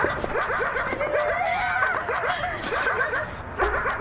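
A dog gives a rapid run of short, high barks and yips, close by and fairly loud, continuing steadily throughout with brief pauses.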